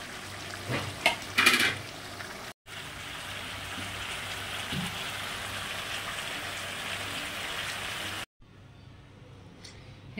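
Pre-boiled meat frying with already-fried spices in a home kitchen pan, a few clattering stirs near the start, then a steady crackling sizzle broken by two brief silent gaps.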